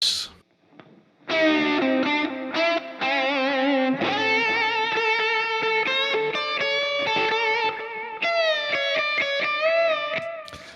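Modular synth tones through a Pulsar Modular P565 Siren filter and Lunar Lander analog delay and plate reverb play a bright, resonant melodic sequence, note after note, smeared by echoing repeats and a spacious reverb tail; loud, no speech.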